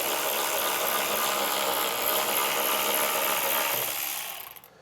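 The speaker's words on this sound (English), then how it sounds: "Take a T30 Torx bit that we used earlier and remove these screws." A T30 Torx bit in a power driver backs screws out of plastic panels by a vehicle taillight while a hidden trailer hitch is installed. Continuous close whirring and ratcheting that fades at the end, with no talk.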